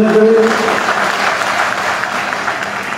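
A crowd at a political rally claps loudly in a dense burst that fades slightly over a few seconds, with a brief voice audible at the very start.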